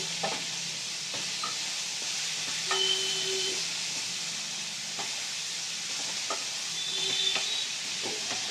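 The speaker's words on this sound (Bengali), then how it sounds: "জিরের পেস্টটা দিয়ে নাড়তে থাকবে।" Chicken liver being stirred with cumin paste in a hot pan: a steady frying sizzle with repeated soft scrapes and clinks from the stirring spoon, close and continuous, with no talking.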